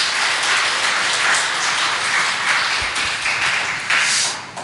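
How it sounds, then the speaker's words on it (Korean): A church congregation claps steadily for its choir during a Sunday worship service, producing a dense, even wash of applause that holds for several seconds with no speech over it. "우리 성가대에게 큰 박수 다시 한번 드리죠"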